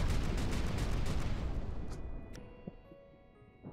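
Heavy booming battleship cannon fire in Final Theory, dense overlapping blasts rolling together, then fading out into a quieter tail with a few sharp clicks.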